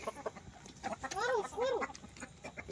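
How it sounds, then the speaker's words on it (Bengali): Native domestic chickens cluck nearby, two distinct drawn-out calls in the middle of the stretch, with faint background noise and murmuring around them. "সব দেশি এগুলো দেশি মুরগি দেশি"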